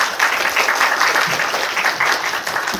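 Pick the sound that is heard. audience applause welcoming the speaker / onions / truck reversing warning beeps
audience applause welcoming the speaker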